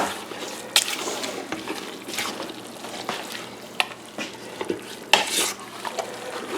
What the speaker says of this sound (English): Stir that in before I put it on the stove, I guess.